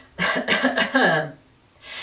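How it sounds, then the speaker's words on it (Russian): A deliberate cough demonstrated in a vocal breathing lesson: several short, voiced bursts in quick succession, close and fairly loud, then a quiet gap with a little breathy noise at the end. "Другой фонационный выдох образует кашель."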